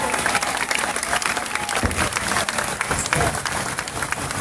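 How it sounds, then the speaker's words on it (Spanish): Loud, dense applause from a church audience at a Bible Day celebration, steady clapping from many hands throughout with crowd murmur and a voice or two faintly underneath. "Denle otro aplauso al que vive."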